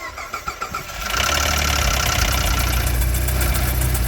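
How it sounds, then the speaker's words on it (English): A Ford 3.0L EcoBoost twin-turbo V6 with a broken cam phaser cranks with a few rhythmic turns, then fires up into a loud, steady rattling idle that persists to the end. "This is what a cam phaser that's broken sounds like."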